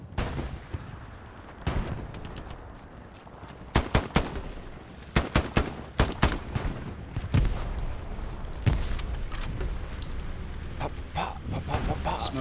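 Battle din in the WWII shooter game Hell Let Loose: scattered gunshots and automatic bursts, some close and sharp, others distant, with heavier booming blasts and a continuous rumble beneath.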